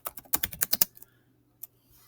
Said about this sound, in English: I know I'm typing pretty fast here